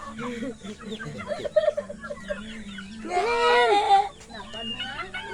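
A chicken clucks and squawks nearby in short bursts, with a louder, drawn-out call in the middle, while people talk over it.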